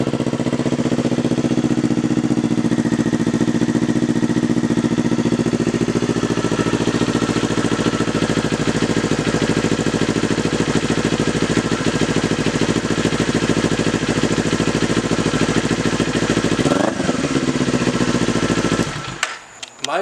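A 2019 Kawasaki Z400 motorcycle runs on a $50 Amazon aftermarket exhaust, a loud steady idle with a raspy, buzzing drone that holds for about seventeen seconds, then blips once and cuts off near the end.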